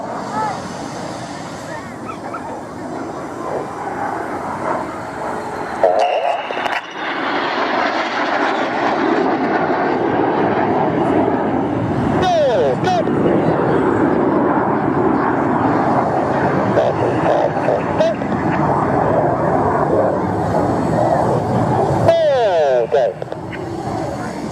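RAF Red Arrows BAE Hawk jets passing low over the Midlands Airfestival showground, a loud sustained jet roar that swells and shifts as they cross, with a commentator talking over it throughout.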